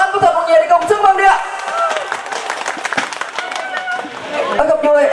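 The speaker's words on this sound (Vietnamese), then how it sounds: "Xin quý vị chúng ta hãy cùng dành những tràng vỗ tay thật lớn và thật mạnh để cùng chúc mừng đi ạ." Wedding guests at a Vietnamese bride's send-off ceremony clap loudly together in a dense, sustained burst of applause, with crowd chatter and background music mixed in.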